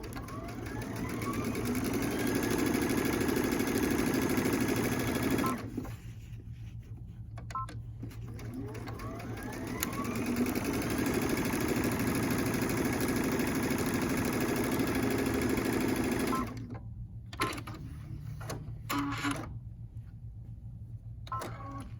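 A sewing machine stitching quilt block strips together in bursts of steady whirring, stopping and restarting with short quiet gaps, close and moderately loud with no talk.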